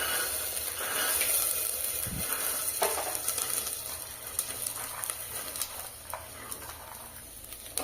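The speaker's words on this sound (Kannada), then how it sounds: "5 ನಿಮಿಷ ಫ್ರೈ ಮಾಡ್ಕೊಳ್ತೀನಿ, ಜಸ್ಟ್ ಖಾಲಿ ಎಣ್ಣೆಯಲ್ಲಿ." Field beans fry in plain oil in a cooker over a low flame, giving a quiet, steady sizzle with occasional soft stirring and a faint clink.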